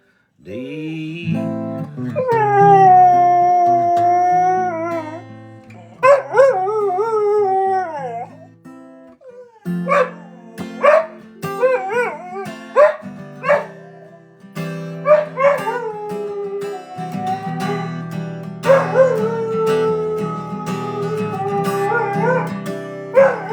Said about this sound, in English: Dog loves to sing.